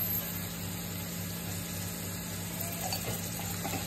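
Browned onion frying in a pan with coriander-cumin powder, turmeric and salt, a steady soft sizzle continuing without pause, fairly quiet and close, with no talking.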